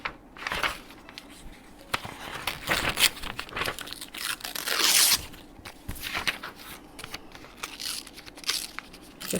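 Old paper being torn and crinkled by hand for craft journaling, with a run of close, uneven ripping and crumpling bursts, one louder tear near the middle, and no talk.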